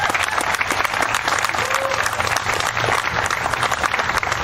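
Steady applause from a crowd at a city meeting honoring a racial justice and community safety committee, dense continuous clapping throughout with no voices on top.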